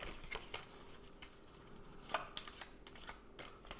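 Deck of cards riffled and shuffled by hand during a solo session of a fantasy map-drawing board game, quiet crisp bursts of shuffling with short pauses between them, close and faint.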